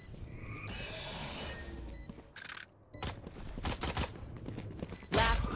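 Gunfire in an online shooter video game, rapid bursts of shots and sharp cracks in clusters separated by short pauses, with a loud final impact at the end.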